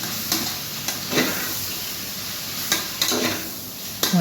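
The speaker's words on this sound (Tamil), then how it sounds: "அதை ஒரு வதக்கணும்." Tomato and Kashmiri chili powder sizzle steadily in a hot pan, with a few sharp scraping stirs of a spoon breaking through at intervals. No voices.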